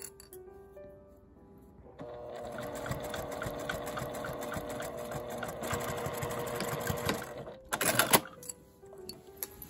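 Sewing machine runs close by, stitching along the folded edge of a fabric wallet bag in a steady mechanical whir after a quiet start, followed by a short louder burst.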